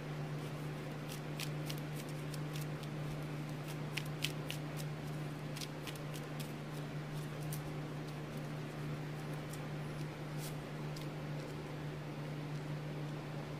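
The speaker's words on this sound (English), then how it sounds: "Let's go ahead and shuffle up." A Pokémon trading card deck is shuffled in a series of quick, crisp card riffles. A steady background hum runs underneath, with no talking.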